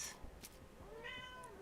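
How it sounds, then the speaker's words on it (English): A cat gives a faint, drawn-out meow at a distance, a single thin rising-and-falling call against quiet background hiss. "Did you hear the little kitty meow?"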